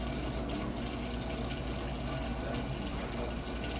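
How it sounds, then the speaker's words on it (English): A kitchen faucet runs in a steady, full stream over hands being scrubbed clean, a continuous close splashing hiss with no pauses. "Get each finger nice and clean. Scrub the back of the hands. Scrub the wrists."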